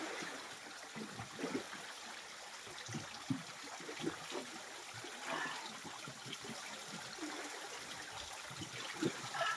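Spring water flows and trickles steadily at a natural spring outdoors, a soft, continuous watery rush with light gurgling bursts, fairly quiet and heard alone.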